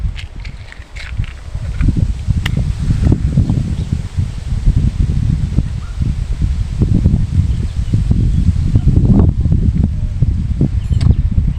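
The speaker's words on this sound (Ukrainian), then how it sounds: "Вітряна погода і сильний вітрук." Strong wind buffets steadily, a continuous low rumbling roar with gusty flutters and rustling throughout.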